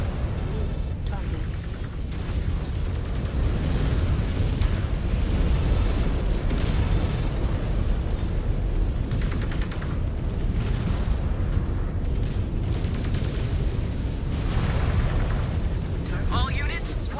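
Continuous rumbling explosions and heavy booms from artillery impacts in the MechWarrior video game, sustained and loud for the whole stretch, with voices heard at times over the barrage.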